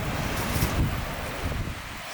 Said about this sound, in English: Although it's very windy right now